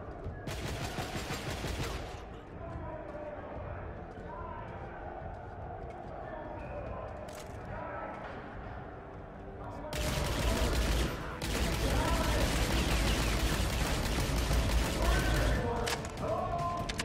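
Turret gunfire in Escape from Butcher Bay, with sustained rapid machine-gun bursts at the start and a longer, louder volley later, under a person talking during the quieter middle stretch.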